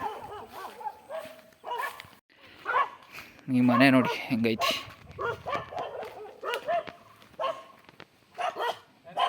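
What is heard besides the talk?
dogs barking at an old house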